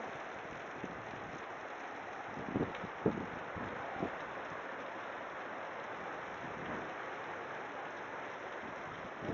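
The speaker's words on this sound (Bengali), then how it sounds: "আবার বৃষ্টির সঙ্গে সঙ্গে আবার ঝোড়ো হাওয়া বইছে। কি বৃষ্টি বন্ধুরা দেখো!" Heavy rain pours over a rooftop in Kalyani during a storm with gusting wind, a steady, faint wash of hiss broken by a few dull thumps.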